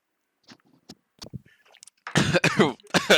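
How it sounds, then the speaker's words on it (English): Scattered small throat sounds build into a burst of harsh, loud coughing after drinking a shot of liquor, several coughs close together near the end. "the coughing sounds so dramatic on audio only, but you're actually coughing"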